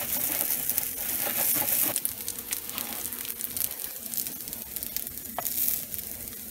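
Potato pancakes made from leftover mashed potatoes fry in butter in a hot pan over medium-high heat, giving a close, loud, continuous sizzle that briefly drops and resumes, with small crinkly clicks mixed in.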